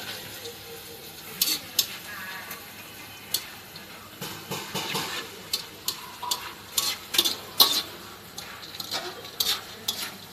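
Soft sizzling of egg chips frying in oil over low heat, with scattered clicks and taps of stirring, quiet and close.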